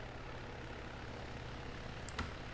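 Aircraft rotor and engine drone from a helicopter in the military game Arma 3, a steady, even hum filling the scene with a brief sharper flicker near the end, no talking.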